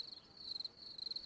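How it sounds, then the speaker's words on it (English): A cricket chirping sound effect plays during a live sports podcast, producing a faint, steady high trill that pulses in quick, rhythmic bursts. "You got crickets."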